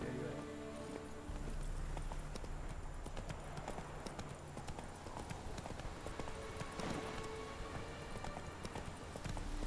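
Geralt's horse Roach gallops in The Witcher 3, with a fast, continuous clip-clop of hooves heard up close under game music and ambience, steady across the whole stretch.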